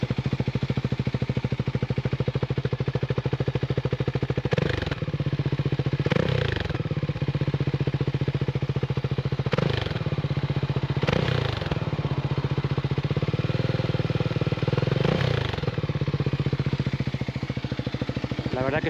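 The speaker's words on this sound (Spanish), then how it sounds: "Ahí estaríais viendo el sonido que tiene esta moto." A Voge 300 AC motorcycle runs, heard close to the exhaust, with a steady, throbbing idle broken by several quick throttle blips spaced a few seconds apart.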